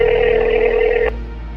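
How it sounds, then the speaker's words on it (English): A telephone ringback tone sounds while a call is placed, one steady close buzzing ring that stops abruptly after about a second. "He hands you the phone, and you phone up Killswitch."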